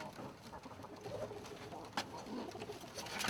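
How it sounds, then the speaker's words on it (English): Arabian trumpeter and Thai laugher pigeons coo and trill in a mixed flock, a layered stream of soft rolling calls close by, with a brief sharp sound near the middle. "What we have here is a mixture of Arabian trumpeters and Thai laughers."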